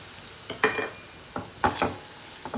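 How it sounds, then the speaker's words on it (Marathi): Bombil fish sautés in chili masala for bombil chutney, with two or three short bursts of stirring and sizzle separated by quiet gaps, close and moderate, with no talk. "बोंबील एक ते दोन मिनिट परतून घ्यायचा"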